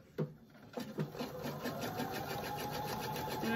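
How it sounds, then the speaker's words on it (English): A sewing machine stitches straight across the bottom seam of a tote bag, running as a steady, close mechanical whir after a few brief knocks at the start. "now I'm just going to sew across the bottom and then we will box"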